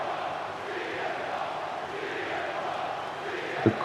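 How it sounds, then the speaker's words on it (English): A steady, dense crowd roar fills a wrestling arena in WWE 2K25 during CM Punk's entrance at the No Mercy premium live event. The noise holds even throughout, with one brief thump near the end. "The crowd here on their feet for the best in the world, CM Punk."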